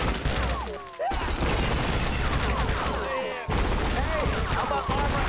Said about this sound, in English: They're shooting me through the wall